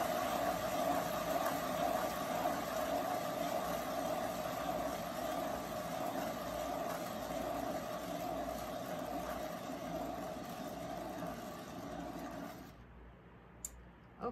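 A motorized acrylic paint pour spinner whirring steadily for about twelve seconds, a continuous mechanical hum with a faint high whine, then cutting off abruptly and leaving near silence.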